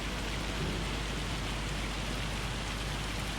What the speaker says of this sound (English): And of course it started raining on me.